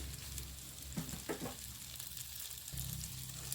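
Spicy Italian pasta is fried and stirred in a pan, a soft continuous sizzle with a few brief scraping strokes, faint and close, with no one talking.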